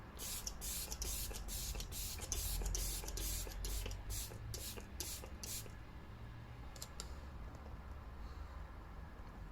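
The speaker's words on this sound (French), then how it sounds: "Maintenant, je vais reprendre mon spray." Makeup setting spray misted onto a face in a quick series of about a dozen short, evenly paced pumps, fairly close, followed by a pause and a couple of fainter final sprays.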